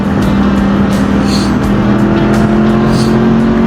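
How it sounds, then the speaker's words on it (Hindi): Dense road traffic in Karachi heard from a motorbike, a loud continuous roar of car engines with steady hum and passing vehicles throughout. "Bloody traffic."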